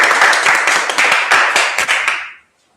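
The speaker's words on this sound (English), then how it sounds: "Give them a round of applause." An audience claps as presidential candidates are welcomed onto a stage for a question time event, a loud, close burst of dense hand claps that cuts off abruptly after a couple of seconds.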